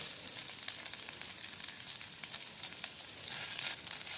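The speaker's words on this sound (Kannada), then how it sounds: "ಈಗ ನಾನು ಇದಕ್ಕೆ ಸ್ವಲ್ಪ ಒಗ್ಗರಣೆ ಸೊಪ್ಪು ಹಾಕ್ತಾ ಇದ್ದೀನಿ" Curry leaves frying in hot oil for a mutton dry sukka, a steady close, even crackle and sizzle with fine spitting pops throughout and no voices.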